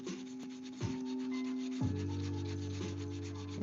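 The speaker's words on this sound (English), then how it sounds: "Definitely the longest part is just this 80 grit sanding" Continuous abrasive rubbing of 80 grit sandpaper on purpleheart wood, close and steady, with a faint motor-like hum running underneath and no voices.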